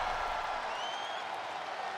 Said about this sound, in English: The crowd.